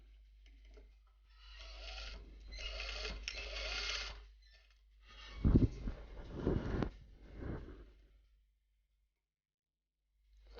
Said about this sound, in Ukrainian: І на відстані пів сантиметра даємо, прокладаємо строчку.